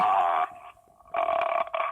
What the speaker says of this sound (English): I can burp myself.